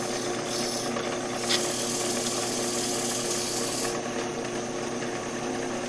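A wood lathe turns steadily at 400 RPM, giving a continuous, even rasping hum with a faint rubbing texture, close and alone without any voices.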